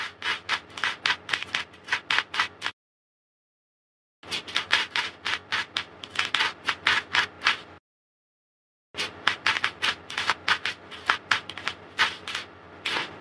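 Tarot cards riffled and handled in quick rapid bursts of crisp flicking and rubbing, three close runs separated by short silent pauses, with no talk.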